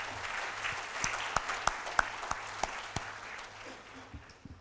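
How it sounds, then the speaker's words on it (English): An audience at a peace leadership conference applauds the organizers, a steady patter of clapping from a moderate crowd with a few sharper individual claps, slowly fading toward the end. "So give them all a round of applause"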